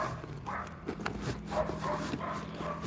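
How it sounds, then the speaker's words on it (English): A dog barks and whimpers somewhat in the background during a home live stream, its yips blending with low room noise and faint voices. "Who has the barky doggy? Because my dog doesn't barky."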